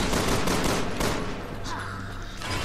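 Resident Evil 6 assault rifle fire rattles loudly throughout, a dense sustained burst of automatic gunfire with overlapping game noise.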